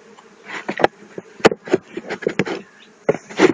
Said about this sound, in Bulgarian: В това край отпред пчелите влизат и имат достъп до храната